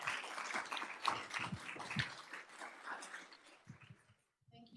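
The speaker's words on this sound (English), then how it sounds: "I think we should give our panelists a round of applause." Audience applause for a panel at a rural health event, a steady wash of clapping from a crowd that tapers off near the end.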